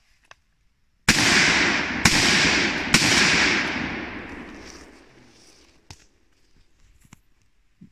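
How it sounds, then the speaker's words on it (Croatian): A Pietta Chronos .308 Win semi-automatic rifle fired at an outdoor shooting stand: three loud shots in quick succession, each with a long echoing decay, followed by faint clicks. "pojavljuju se svinje i strelac može početi sa pucanjem sad."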